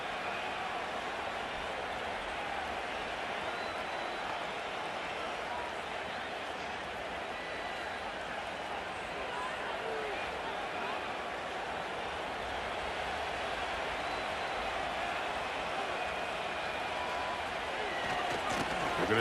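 Stadium crowd noise in a Madden 25 simulated Jets vs Titans NFL game, a steady, distant murmur and roar of spectators throughout, rising slightly near the end, under commentary.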